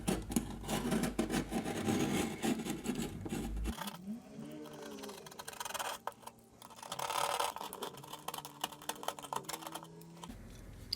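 A utility knife scrapes and shaves to chamfer the front edge of a hole in a plasterboard wall, giving close, irregular bursts of gritty scratching and rasping strokes with short pauses between them.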